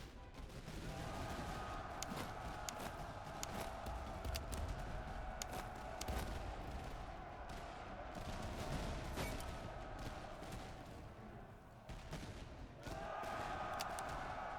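Volleys of musket fire from line infantry in Master of Command, a Commonwealth army in battle, crackling almost without pause as a dense, loud roar of overlapping shots with a few brief lulls.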